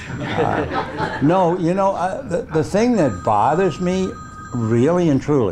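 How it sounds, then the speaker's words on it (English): A telephone rings during a spring training Q&A, a steady electronic tone running through most of the clip beneath continuous close speech and a brief chuckle. "that's my phone, we won't answer"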